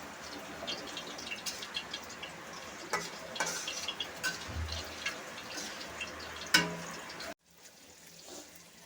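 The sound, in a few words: hilsa fish heads added to cooking Malabar spinach curry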